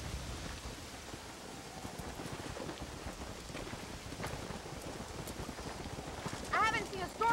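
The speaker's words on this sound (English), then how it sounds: "I haven't seen a storm like this for a while." A rainstorm with thunder in Red Dead Redemption, with steady heavy rain and low rumbling, and a voice speaking briefly near the end.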